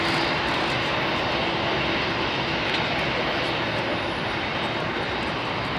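A Boeing 747 jet takes off at Heathrow, a loud, dense, continuous roar of engines at full power filling the air without a break.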